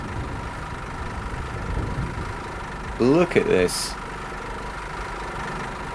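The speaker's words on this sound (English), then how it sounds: "just listen to the sound of that engine" A Scania bus engine idles in the Fernbus video game, a steady low rumble running throughout, with someone talking briefly over it midway.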